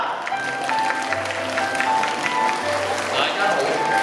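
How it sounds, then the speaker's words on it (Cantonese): A family audience at Ocean Park's marine show applauds to welcome a dolphin-teacher character, with sustained clapping spread across the crowd under faint background music and a voice. "而家我哋一齊用掌聲歡迎我哋嘅海豚老師啦！"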